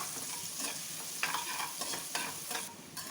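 Ginger and garlic fry in hot oil in a pan for chana dal, a steady close sizzle broken by scraping stirs of a spoon.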